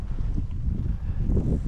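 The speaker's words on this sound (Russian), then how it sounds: "Ветер сильный." Strong wind blowing outdoors at an early-spring carp fishing spot beneath power lines, a steady low rumbling buffet with gusts swelling toward the end, no voices.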